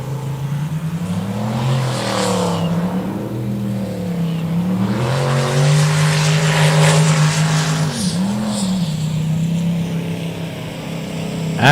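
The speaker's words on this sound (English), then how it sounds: "You can hear the turbos whistling in that boat." Powerboat engines from an ASB Pro race, with rising and falling motor drones and a steady high turbo whine across the run, loud and continuous with no talk.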